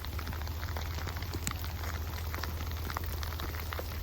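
Rain falls steadily during a campsite setup in West Virginia, a dense continuous patter of drops on surfaces, with scattered sharper drips close by and no voices.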